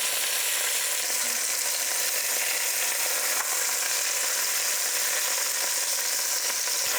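Chicken sizzles steadily in a hot frying pan for soup, a dense, even crackle and hiss with no pauses and no voices.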